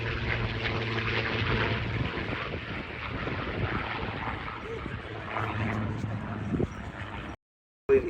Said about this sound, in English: has started work on a 36-litre V12, and that's what you're listening to now